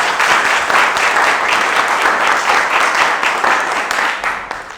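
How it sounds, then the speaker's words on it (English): A quiz show studio audience breaks into loud, dense, continuous applause that holds steady before easing off slightly at the end. "Give a round of applause."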